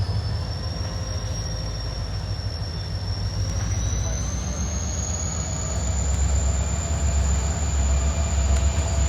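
A model train runs continuously along its track, a steady rolling rumble with a thin high-pitched whine above it, growing slightly louder toward the end.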